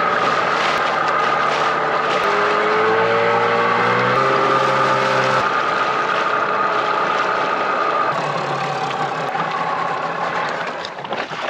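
A dinghy with an outboard motor runs across the water with a loud, steady engine drone and a whining pitch that rises and falls, tapering off slightly near the end.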